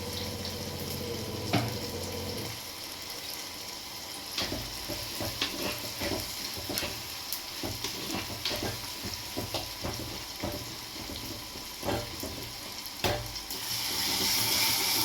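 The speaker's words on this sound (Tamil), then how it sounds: "இந்த மீன் வந்துட்டு வறுக்க போகிறேன்" Steady crackling sizzle of fish frying in oil, with occasional clinks and water-like splashes, continuous and close throughout.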